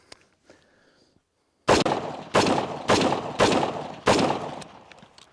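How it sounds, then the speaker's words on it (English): A rifle fitted with a Next Level Arms muzzle brake fires five sharp, loud shots in a fairly even rhythm outdoors, each blast trailing into a brief echo, after a few quiet small clicks. "So take a couple shots and have you guys look."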